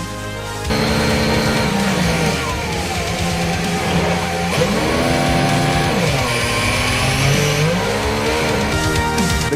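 Formula 1 cars racing after a virtual safety car period, with loud engines whining and shifting pitch as they pass, plus some tire squeal, continuous and close throughout.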